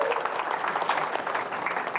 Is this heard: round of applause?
yes